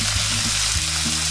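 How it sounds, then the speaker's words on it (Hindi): Onions frying in hot ghee and oil make a loud, dense sizzle with low bumps from the pan, heard close and without speech. "गरम घी ऑयल में या घी में हम पहले प्याज को डाल देंगे।"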